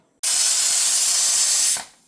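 A pressure cooker on a gas stove, cooking wheat porridge, lets off a loud, steady steam hiss for about a second and a half, starting abruptly and then tapering off.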